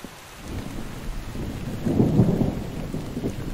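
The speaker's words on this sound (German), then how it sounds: "Es regnet doch tatsächlich durch." Rain pours and leaks through a hut roof in the survival game The Infected, a steady hiss of rainfall with a low rumbling swell that builds midway, fairly quiet and without talk.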